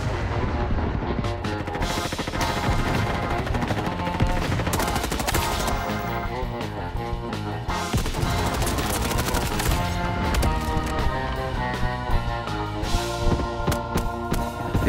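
Bursts of rapid gunfire and machine-gun fire crackle through a Roblox first-person shooter, FRONTLINES, with repeated sharp shots layered over a loud, busy music-like game soundtrack.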